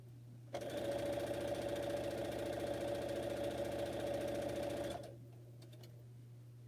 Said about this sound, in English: I didn't get a chance to sew on this sewing machine all day.